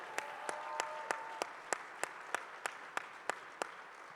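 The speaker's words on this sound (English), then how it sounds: "let me hear maybe an applause for the soldiers of the IDF who are here tonight" Quiet, sparse clapping for IDF soldiers at an indoor leadership event, about a dozen evenly spaced claps in a steady rhythm, with faint background murmur under them.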